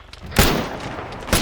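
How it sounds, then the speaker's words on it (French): Two sharp gunshots ring out about a second apart in a forest, loud and close, each trailing into a brief echo. "Coup de feu, coup de feu."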